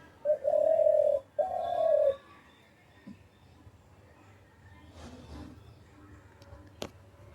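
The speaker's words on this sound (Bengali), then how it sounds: "আওয়াজটা শুনে নিশ্চয়ই বুঝতে পেরে গেছো, দুটো বন ঘুঘু রোজ আসে এখানে, বন পায়রা বলি আমরা" Two wild doves coo, giving two long, low, tonal calls close together near the start, then quieter outdoor ambience with faint rustles and distant sounds.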